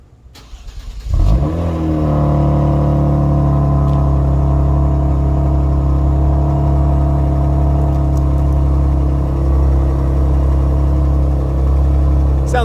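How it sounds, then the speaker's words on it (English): A Kia Stinger GT fitted with ARK downpipes fires up from cold, a quick crank and catch followed by a loud, raspy high idle that settles into a steady, throaty drone close by. "I'm gonna do a cold startup real quick on the car."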